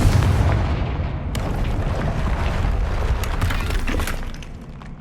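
A loud Confringo blasting spell explosion from Hogwarts Legacy booms and shatters with crackling debris, rumbling on for several seconds before fading.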